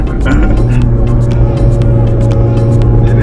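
A modified Mitsubishi Galant with a V6 engine hums steadily from inside the cabin, a loud, even low drone with faint clicks above it.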